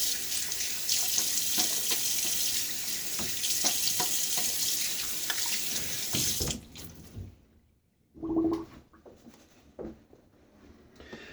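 Tap water runs steadily into a sink while a safety razor is rinsed during a wet shave, then the flow stops and a few faint splashes and clinks follow.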